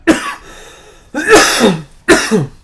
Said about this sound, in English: That cough just fucking came out of nowhere